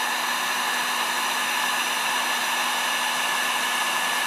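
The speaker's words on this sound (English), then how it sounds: "You take the heat gun and just simply melt." Heat gun blowing steadily on a plastic garbage bag to melt it, a constant loud rushing hiss of hot air with an even whine, unbroken and without voices.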